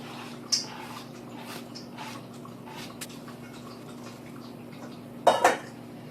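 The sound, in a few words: gathering ingredients into a mixing bowl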